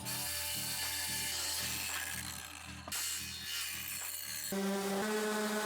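A handsaw cuts a small piece of wood for a DIY floating corner shelf, giving steady back-and-forth rasping strokes, close and fairly loud, with a shift in tone near the end as the cut finishes.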